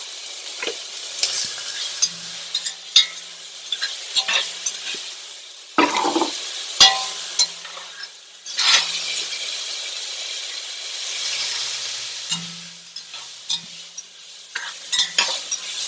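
Tomatoes sauté in a hot pan for Caribbean-style black beans, with a steady sizzle broken by repeated stirring scrapes and clinks, close and alone without talk.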